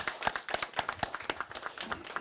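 Hands clap briskly and evenly in a forum audience, moderately close and with no talk over them.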